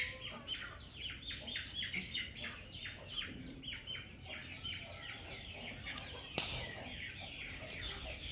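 Aseel and desi hens clucking in a yard, a rapid, steady stream of close, chattering clucks with occasional sharper calls.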